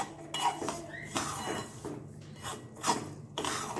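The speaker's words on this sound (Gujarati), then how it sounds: "ગેસ બંધ કરી અને બધું સરસ મિક્સ કરી લઈશું" A spoon scrapes and clinks against a pan while peanuts, sesame seeds, chili and pepper masala are mixed off the heat, with short bursts of stirring and pauses between them.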